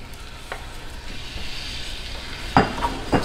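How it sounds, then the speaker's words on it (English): Ground beef dropped into a hot stovetop pan for cheesy stacked beef quesadillas, giving a steady low sizzle throughout with a couple of sharper spatula scrapes or stirs near the end, close by and without talk. "we're gonna toss our ground meat right into our hot pan."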